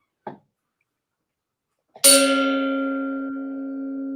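A gong is struck once after a brief faint tap, ringing out loud and sustained with a long, steady shimmering decay.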